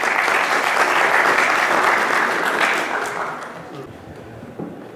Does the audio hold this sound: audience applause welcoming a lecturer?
yes